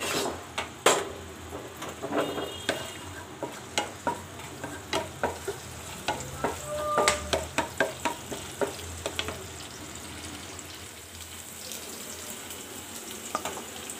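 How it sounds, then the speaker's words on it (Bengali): Onions fry in oil in a pan with a soft, continuous sizzle, punctuated by a run of sharp stirring scrapes and clacks of a spatula against the pan. "পরিমাণ মতো তেল, পেঁয়াজ দিয়ে দিলাম। এখন পেঁয়াজ ভাজা হলে"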